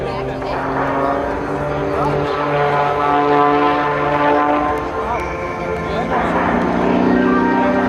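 Propeller drone and engine roar of a 400-plus horsepower, 1,227-pound high-performance aerobatic biplane at an airshow, loud and steady with shifting engine tones throughout.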